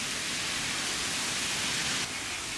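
Rain falls on a late-summer day in Hossegor, a dense, steady hiss that stays loud and even throughout, with no one speaking.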